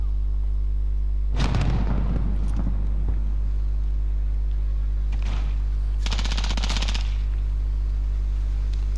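Gunfire in Call of Duty Modern Warfare team deathmatch, with a few short bursts of rapid automatic shots separated by pauses over a steady low in-game hum, moderately loud.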